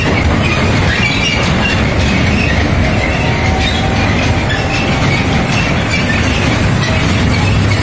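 A small ride train in a children's park rolls along with steady wheel rumble, clicking over the track and a faint squeal, loud and close throughout with no voices.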